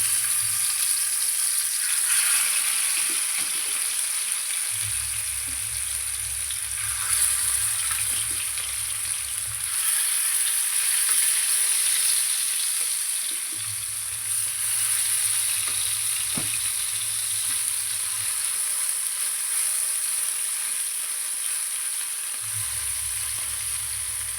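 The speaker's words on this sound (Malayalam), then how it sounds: "വറുക്കാനുള്ള മീൻ ഇട്ട് കൊടുക്കാം" Fish frying in coconut oil in a frying pan produces a steady, close bubbling sizzle that continues throughout, with faint low rumbles coming and going underneath.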